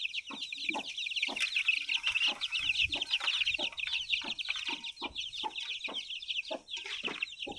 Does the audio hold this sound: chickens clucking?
yes